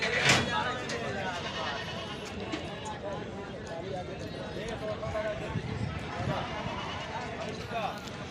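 Goats at a goat market held at a madrasa, bleating amid a busy crowd, with a sharp bleat near the start over dense background chatter and people talking throughout.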